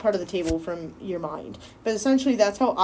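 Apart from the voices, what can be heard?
None of the usual background noises is heard.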